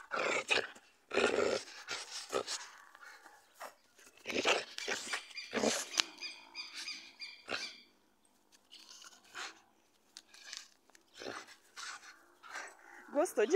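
A puppy pants and growls in short bursts while playing with a ribbon, close to the microphone, with quiet pauses between the bursts.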